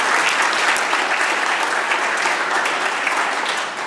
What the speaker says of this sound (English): give them the round of applause that they so richly deserve